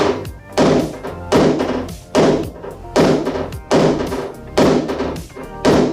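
A knockdown punch taps down dents on a vehicle roof, making a steady series of loud, resonant metallic thunks, about one every 0.6 seconds, alone with no talk.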